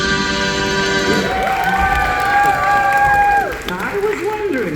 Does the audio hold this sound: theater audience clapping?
yes